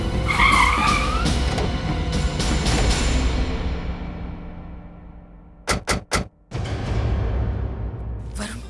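A car skids with a loud, drawn-out tyre squeal that fades away, followed by a few sharp thumping impacts and then a return to engine rumble, used as a horror show sound effect.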